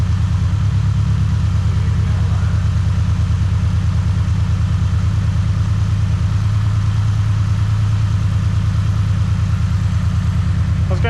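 A Subaru BRZ engine runs with a steady loud low rumble at a near-constant idle, close by and unbroken for the whole stretch, with no voices over it.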